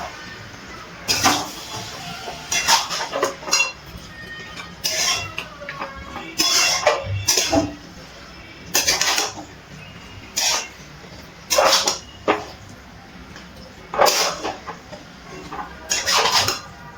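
Desi chicken meat being stirred with spices in a pan, a metal spoon scraping and clanking against the pan in irregular bursts with quieter sizzling between strokes.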